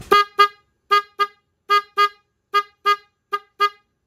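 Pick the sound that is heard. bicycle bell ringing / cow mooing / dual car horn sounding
dual car horn sounding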